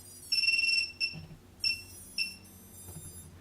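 A buzzer on a FlyEgg micro FPV drone sounds on power-up with short, shrill electronic beeps: a longer tone, then several brief chirps spaced about half a second apart, close by against a quiet background.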